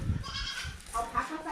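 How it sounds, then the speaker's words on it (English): Goats bleat a couple of times at a distance, short wavering cries over faint background noise. "Can you hear the goats somewhere?"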